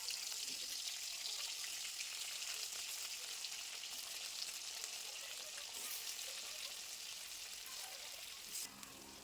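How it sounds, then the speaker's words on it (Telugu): Onion-chili stuffed brinjals fry in hot oil with curry leaves, giving a continuous, even hissing sizzle that holds steady throughout, close and fairly quiet. "ఇప్పుడు అందులో ఉల్లికారం పెట్టిన వంకాయలను వేసి వేయించుకోవాలి."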